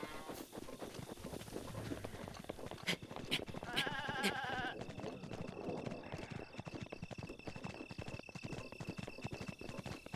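A goat in The Legend of Zelda: Breath of the Wild bleats briefly over a steady patter of hooves and footsteps, with soft outdoor game ambience throughout.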